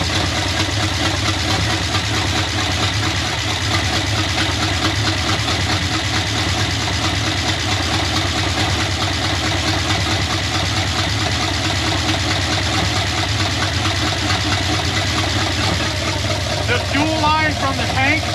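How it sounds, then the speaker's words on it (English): Old square-body truck engine idles steadily and loudly for the whole stretch, a constant close mechanical drone with a faint voice briefly near the end. "And it's actually idling on its own."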